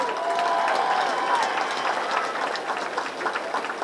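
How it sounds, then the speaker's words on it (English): Crowd applause for a Carthage Band Alumni Association Hall of Fame inductee at a Friday night high school football game, brisk clapping and cheering from a stadium audience that gradually thins out. "A round of applause, please, for the 2019 Carthage Band Alumni Association Hall of Fame inductee, Mr. Jim Jones."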